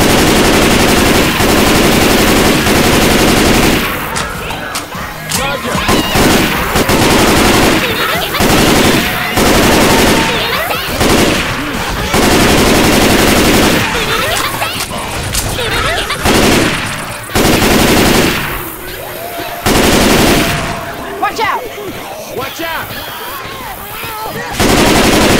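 Rapid machine-gun bursts and scattered single shots from the zombie-survival shooter Left 4 Dead 2 come in loud, close volleys with brief gaps, and voices are heard faintly between them.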